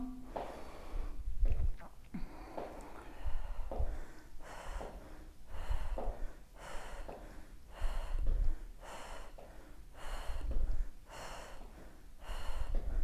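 A pregnant woman breathing heavily after a short, intense exercise routine, with loud, close, rhythmic gasping inhales and exhales repeating roughly every second or two.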